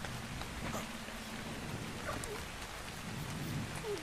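Rain and thunder in the video game ARK Scorched Earth, a constant heavy wash of rainfall with low rumbling thunder rolling underneath, steady and fairly close, no talking.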